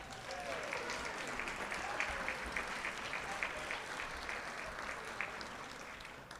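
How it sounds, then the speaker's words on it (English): Sustained, dense applause from an audience at an induction dinner for pianist John Thompson, a steady even wash of many hands clapping throughout, fairly loud and continuous. "let's have a nice round of applause for John Thompson on the piano"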